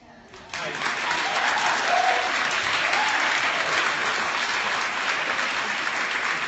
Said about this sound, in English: And the stupid crowd claps.